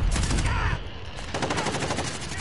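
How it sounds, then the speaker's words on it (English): Rapid automatic gunfire from the video game Call of Duty, loud and continuous bursts of shots with a brief dip in the middle before the firing picks up again. "Now they're just shooting at us."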